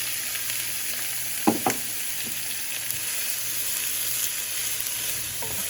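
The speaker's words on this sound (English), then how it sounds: "I'm going to put some olive oil. And I will add my onion and the red pepper." Onion and red pepper sauté in hot olive oil in a pan, a steady close sizzle with a couple of brief knocks from a utensil early on and no voices.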